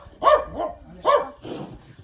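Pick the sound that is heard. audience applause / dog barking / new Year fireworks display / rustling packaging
dog barking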